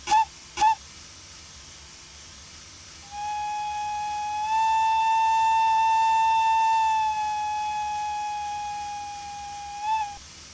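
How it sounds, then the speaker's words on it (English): Steam whistle of a Manning Wardle K Class locomotive in a railway simulator game: two very short toots, then one long sustained whistle that swells and holds for several seconds before fading, with a final brief toot, loud and close. "D key for the short whistles."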